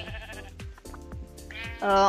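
Sheep in a video game bleat in short repeated calls near an animal pen, several wavering cries in a row ending in one louder, sustained bleat.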